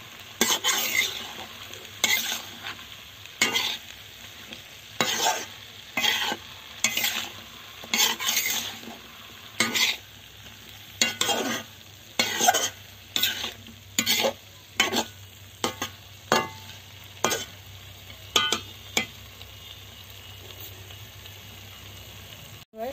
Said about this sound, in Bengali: এবারে ভালো মতো ঘেঁটে দেবো।